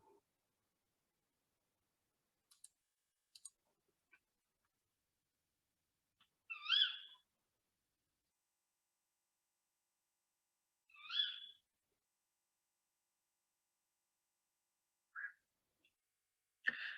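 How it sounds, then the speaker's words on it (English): A few sharp, high-pitched kiwick calls from a female owl ring out at spaced intervals against near silence, with faint clicks between them. "that kind of kiwicking sound, kiwick call, is a young owl or a female owl"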